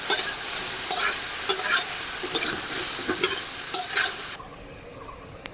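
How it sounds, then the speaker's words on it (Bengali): Carrots stir-fried in a pan for fried rice, a continuous bright sizzle with regular scraping stirs of the utensil against the pan, close and steady, then the sizzle drops away near the end. "ওই জন্য গাজরটাকে আমি আগে দেব। ভালো করে ভেজে নেব।"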